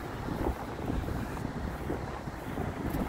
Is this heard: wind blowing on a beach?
yes